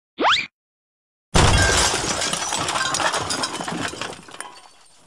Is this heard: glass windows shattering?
yes